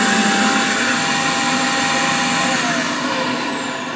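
A Karcher VC5 compact vacuum cleaner runs on maximum over carpet, a loud, close, continuous whine and rushing airflow with a slight drop in pitch near the end.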